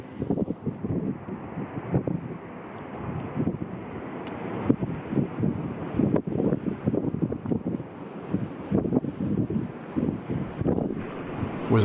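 Strong gusty wind buffets the microphone at Greenley Beach on South Australia's west coast, with rolling surf breaking underneath in a continuous, rumbling roar.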